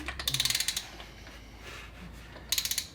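An engine is turned back by hand at the harmonic balancer, bringing two close bursts of quick ratcheting clicks, one at the start and one near the end, with a quiet gap between them.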